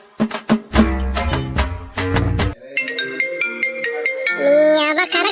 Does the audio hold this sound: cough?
no